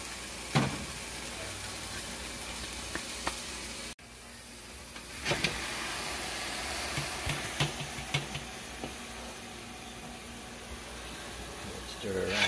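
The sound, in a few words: stirring beef frying in pot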